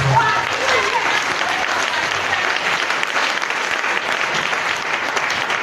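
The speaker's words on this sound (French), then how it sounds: "Acclamons le puissant." A church congregation at an evangelical service applauds steadily, dense sustained clapping from a crowd filling the whole stretch at even loudness, with voices mixed into the noise.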